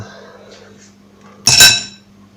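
Banana cake batter for a gluten-free, lactose-free cake, with egg white added, mixed in a bowl with a utensil; one short, loud scrape and clink against the bowl stands out over a quiet hum.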